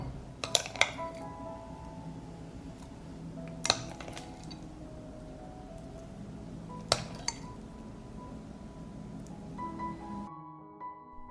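A glass jar handled at a kitchen counter while garlic paste is prepared, giving a few sharp, close glassy clinks and knocks spaced several seconds apart over a quiet room background.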